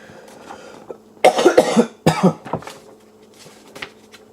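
Several harsh, close coughs in two bursts, a throaty hacking cough followed by a second fit, with quieter breathing around them.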